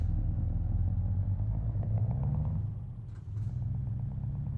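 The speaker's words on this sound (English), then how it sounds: "He doesn't like my engine sound." A truck engine in Euro Truck Simulator 2 rumbles low and steady, a deep droning idle with faint clatter, constant and fairly close throughout.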